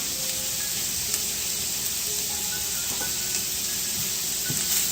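Onions caramelizing in a pan on a stove turned down to medium, with a steady soft sizzle and hiss and a few faint clinks of a utensil against the pan.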